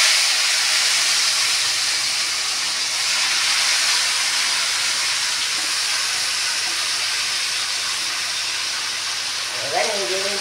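Pointed gourd fries in hot oil with nigella seeds, giving a steady, loud, hissing sizzle that holds evenly throughout, with a brief faint clatter near the end.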